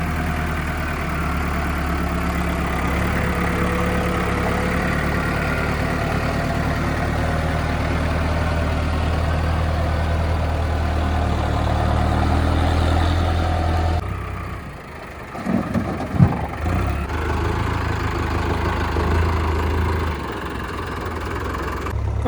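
A Mahindra 575 tractor engine runs at a muddy work site where soil is being filled, a steady close diesel idle that briefly dips and clunks before picking back up, with no voices.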